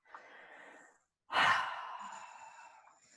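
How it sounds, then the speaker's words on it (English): One big deep breath drawn in, a soft airy inhale followed by a louder, breathy rush of air that trails off slowly, close and alone with no talking. "Take a big deep breath in"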